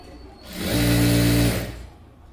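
A sewing machine runs a single short burst of stitching on a saree being made into an umbrella frock, rising and fading over about a second, close and steady with no talk.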